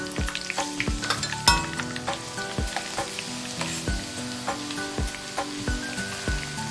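Garlic and dried chillies frying in an oil-filled pan while a pickle is made, with a steady crackling sizzle broken by several sharp pops and bursts, loud and close.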